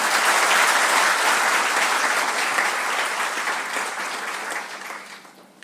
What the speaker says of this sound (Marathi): जोरदार टाळ्या होऊ द्यात